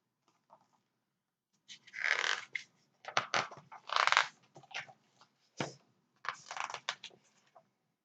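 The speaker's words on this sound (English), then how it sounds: "Technical difficulties with page turning." Soft papery rustles and flicks of pages being turned, several brief bursts spaced irregularly in a quiet room.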